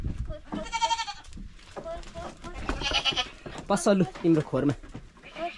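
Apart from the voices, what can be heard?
goats bleating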